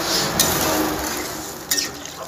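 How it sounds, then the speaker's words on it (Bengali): Water poured into a pan of potato and pointed gourd curry after the masala is cooked down: a close, continuous rushing pour with a couple of brief splashy surges. "এবার জল দিয়ে দেবো"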